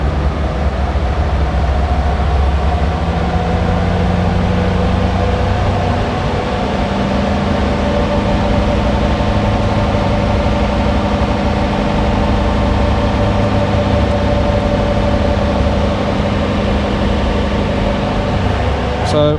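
A Land Rover Defender with a 2.2 TD4 Puma diesel engine runs steadily on a dyno at 3,000 RPM, a loud, continuous droning hum with a constant pitch that holds evenly for the whole stretch.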